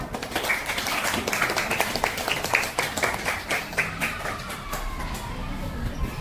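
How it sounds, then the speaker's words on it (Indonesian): Steady applause from a class of schoolchildren, many hands clapping densely and continuously for several seconds at moderate loudness. "Tepuk tangan."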